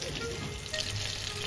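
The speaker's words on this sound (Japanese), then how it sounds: "爪楊枝で刺して透明な肉汁が出るまで焼いていく。" Ground meat frying in a pan with white wine, a steady close sizzle with crackling spatter that holds evenly throughout, no voices.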